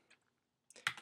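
A brief burst of quick, soft keystrokes on a computer keyboard, close and quiet, after a short pause of near silence.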